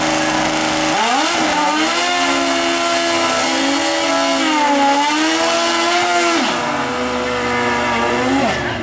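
Roaring drag racing motorcycle engines rev hard and climb in pitch, dropping briefly between gear shifts before screaming up again, loud and close throughout, during a final-round race.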